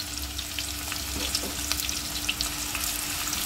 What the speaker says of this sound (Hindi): अब जो प्याज है जो हमने आपको दिखाई थी तड़का लगाने के लिए वो सारी की सारी इसमें हमने डाल दी है